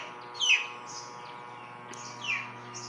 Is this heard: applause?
no